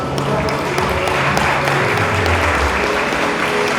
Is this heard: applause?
yes